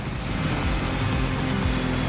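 Racing boats roar across open water in The Crew Motorfest, a loud, steady wash of engine drone and spray rushing continuously without breaks, with no talking.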